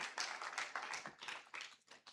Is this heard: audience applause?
yes